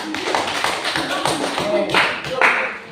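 Hands clapping together for a group in a classroom, a steady patter of overlapping claps filling the room with some voices mixed in.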